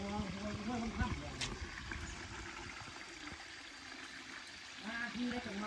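Huai Wang Tham waterfall at Ban Na Ang flows with a steady rushing wash of water, heard beneath someone talking.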